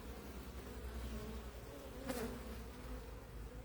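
Honey bees buzz steadily around an opened hive during an inspection, a faint continuous drone with one brief louder pass of a bee flying close.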